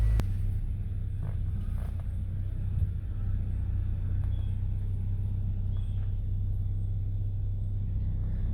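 A Mercedes engine idles steadily after ABS reluctor ring work, giving a constant low rumble with no revving or speech across the whole stretch.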